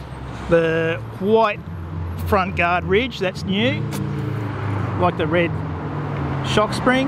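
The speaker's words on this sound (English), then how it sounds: "I apologise for the traffic noise" Someone talks steadily over a constant rumble of passing road traffic, with engines droning in the background throughout, beside a Vespa Primavera scooter.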